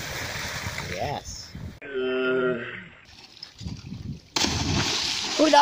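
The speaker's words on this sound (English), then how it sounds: "Oh, that was a six splash." Person jumps into open water and hits the surface with a loud, close splash, followed by sloshing and water churning, while people nearby talk and shout before and after.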